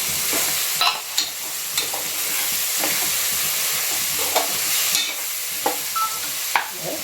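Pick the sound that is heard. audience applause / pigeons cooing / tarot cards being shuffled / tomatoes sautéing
tomatoes sautéing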